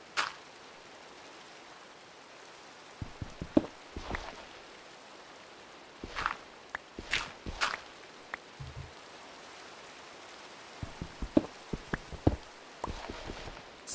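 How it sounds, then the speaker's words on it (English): Rain falling in the Minecraft video game, a steady soft hiss running throughout, with scattered sharp clicks and taps from in-game digging and footsteps breaking through at intervals. "Sounds like the rain might be a little closer than we would hope."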